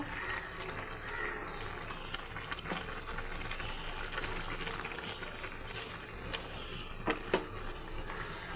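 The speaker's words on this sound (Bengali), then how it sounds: "এবার এই থালাটা ধুয়ে আমি জল দিয়ে দেব।" Water poured into a pan of lightly fried fish gives a steady, fairly faint hiss and bubbling wash of liquid that holds throughout, with a few small clinks near the end.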